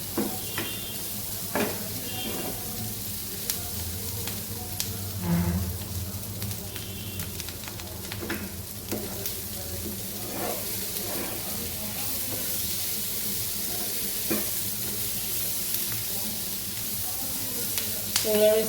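Capsicum (bell pepper) stir-frying in a hot pan for a besan sabzi, a steady sizzle and hiss with scattered stirring scrapes and clinks, fairly close, continuous throughout.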